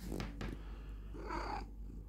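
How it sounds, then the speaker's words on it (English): A house cat gives a short, close meow-like call over a steady low purr, all within about two seconds and with no talking. "Why are you meowing?"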